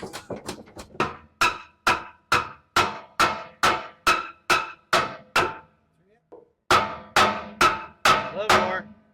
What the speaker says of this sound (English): Hit it with the hammer.